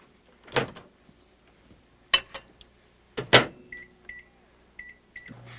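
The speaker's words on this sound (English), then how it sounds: "set them on the rack and into the microwave 3 minutes" A microwave oven from a 1993 Microcrisp cooking demonstration: a few solid thuds as the door and rack are handled, then a short run of clear electronic keypad beeps, ending with a low hum starting up.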